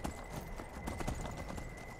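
Horse hooves clip-clop steadily at a riding pace in Skyrim, over a constant wind-like hiss with a thin high tone running throughout.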